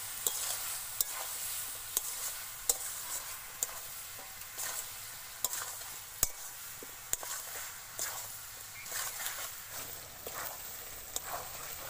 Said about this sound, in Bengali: হলদি গুঁড়ো দিয়ে আমি এবার সাত আট মিনিট ভালো করে কষিয়ে নেবো